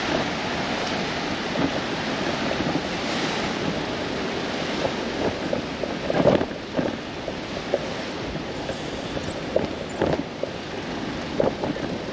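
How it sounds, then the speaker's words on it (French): Ocean waves wash onto the shore beside a coastal road, a continuous broad roar of surf with wind buffeting the microphone and occasional louder surges of breaking water. No one speaks. "il y a pas mal de vagues à droite"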